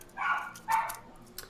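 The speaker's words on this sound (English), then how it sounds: "Sorry about my dog." A pet dog named Whiskey barks twice indoors, two sharp, fairly close yelps about half a second apart, with a fainter yip trailing after.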